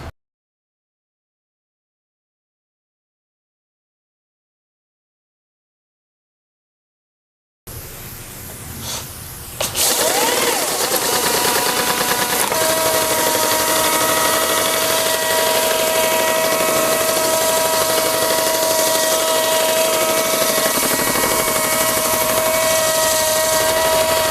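A Scarab handheld grinder with 100 grit resin pads works a pore filler densifier into a concrete floor. After several seconds of silence, the motor spins up into a loud, continuous drone with a steady whine, close and unbroken.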